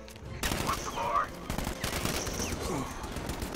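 Gunfire from the Batman: Arkham Knight video game crackles in bursts throughout, a busy layer of shots mixed with game effects while someone talks over it.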